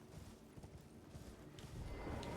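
A horse gallops in the video game Elden Ring, with steady rapid hoofbeats under a dense, continuous game soundscape that grows slightly louder toward the end.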